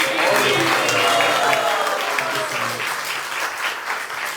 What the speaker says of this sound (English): A big round of Haribol and applause.